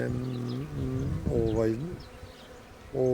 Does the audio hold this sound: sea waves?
no